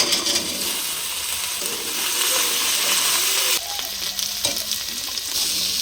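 Vegetables sizzle loudly in a pan over onion, garlic, whole cumin and masala, a steady hissing fry with occasional spatula scrapes and stirring knocks, close and continuous.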